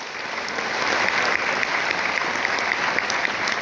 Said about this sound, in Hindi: मैं फिर ताली चाहूंगा